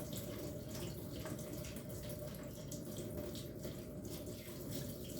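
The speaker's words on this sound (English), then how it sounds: "Go ahead and rinse your olives" Tap water runs steadily into a sink as canned olives are rinsed, a constant close splashing hiss with no break and no talk.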